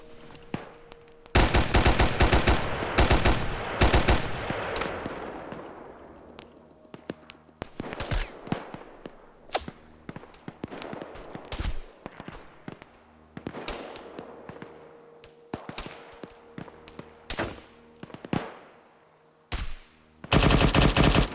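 Bursts of rapid automatic gunfire from a video game, loud and close, firing in repeated long and short volleys with brief pauses between, and no talking.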